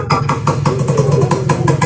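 A loud Yamaha RXZ two-stroke motorcycle engine runs close by, its rapid popping pulses rising and falling as it revs.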